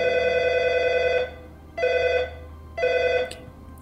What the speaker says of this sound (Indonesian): aku dengar handphone aku berbunyi